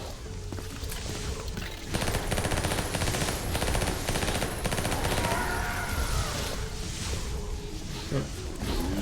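Rapid Uzi submachine gun bursts rattle in a video game, dense continuous automatic fire dominating the mix alongside chaotic game sounds, loud and near.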